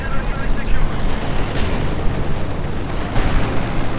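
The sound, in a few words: mortar fire in the video game Company of Heroes 2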